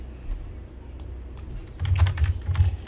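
Keys clatter on a computer keyboard as an activity name is typed into Android development software, a few soft taps followed by a quicker, louder burst of keystrokes near the end.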